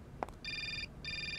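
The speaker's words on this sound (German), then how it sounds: "Telefon." Telephone ringing in the adventure game Syberia, two bright electronic ring bursts with a short gap, preceded by a small click, clear and moderately loud.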